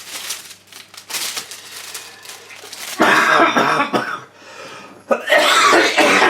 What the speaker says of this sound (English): I'm sorry, the coughing is going to continue, folks.